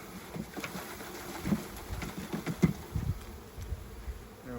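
Honeybees from a package being shaken into a backyard hive make a faint, diffuse buzzing hum with soft bumps and knocks, quiet and continuous with no talking.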